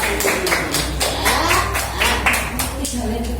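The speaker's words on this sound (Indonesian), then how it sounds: "Tepuk tangan buat kita semua yang sudah mau belajar" A group in a church congregation claps hands in a quick, fairly even rhythm of sharp repeated slaps, close and steady, while a voice carries on speaking over it.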